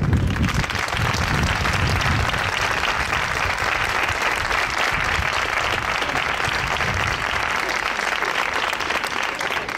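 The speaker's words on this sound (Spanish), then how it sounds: "os pido un primer y gran aplauso para ellos" Loud, sustained applause from the audience at a charity processional-march competition in Íllora, a dense wash of clapping lasting throughout with some low crowd rumble beneath.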